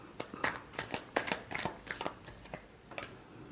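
Tarot cards are shuffled by hand in quick riffling snaps and soft flicks, a dense uneven rhythm of close, crisp paper slaps lasting a few seconds.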